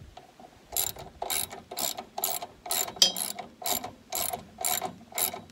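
A hand ratchet clicks in about nine quick, evenly spaced bursts while tightening a bolt on a tractor's rear hydraulic remote, close and clear, with a single word spoken partway through.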